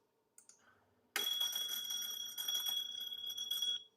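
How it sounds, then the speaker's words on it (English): An electric bell rings continuously inside a vacuum bell jar once its power supply is switched on, a bright sustained metallic ringing that starts suddenly after a few faint clicks and holds steady until cut off. "as the power supply was switched on, the bell started ringing"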